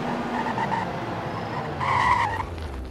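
A car on a race track during a track day skids and spins out, its tyres squealing in a wavering screech over steady engine roar, loudest near the end.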